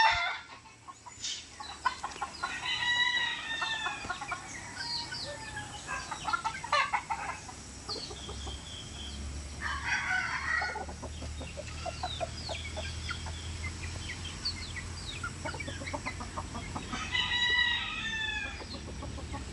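Gamefowl chickens on a farm cluck repeatedly while roosters crow several times, some near and some farther off, with birds chirping across a quiet outdoor background and no talk.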